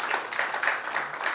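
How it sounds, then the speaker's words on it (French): An audience at a French-speaking event applauds seven participants, a steady dense patter of clapping hands from a crowd, continuous and fairly loud throughout with no pause. "Ah, vous pouvez applaudir aussi les 7 participants."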